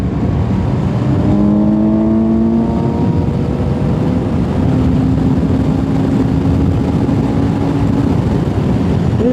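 A Suzuki GSX-S750Z motorcycle's 749cc inline-four, derived from the GSX-R750, drones loudly and continuously with rising and sliding engine tones over steady wind and road noise.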